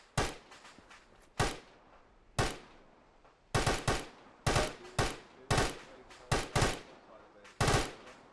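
Gunfire in the Arma military sim comes as sharp, loud bursts and single shots, irregularly spaced with quiet gaps between them, several quick rattling volleys clustered toward the end.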